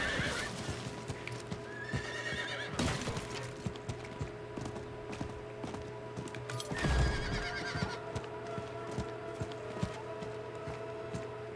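Horse in the Diablo 4 video game whinnying and clip-clopping, with steady hoofbeats running throughout and sharp neighs bursting out near the start and middle, moderately loud.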